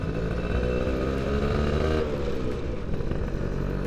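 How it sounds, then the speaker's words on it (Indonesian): A Suzuki Satria 120R two-stroke motorcycle on a test ride, its engine droning steadily and loud throughout with rich layered harmonics and slight shifts in pitch, no voices present. "sekarang kita akan coba test drive nih motor Suzuki Satria Hiyo"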